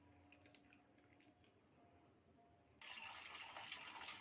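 Water running from a tap during washing, quiet handling and soft splashes at first, then a sudden loud steady gush of flowing water filling the latter part, no speech.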